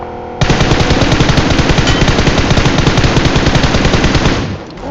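Automatic gunfire in the mobile battle royale game PUBG Mobile: a loud, continuous rapid-fire burst of shots that cuts in sharply, hammers on for several seconds, then tapers off.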